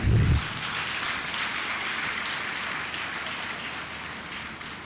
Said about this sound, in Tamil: அனைவரும் உங்களுடைய கைத்தட்டலோடு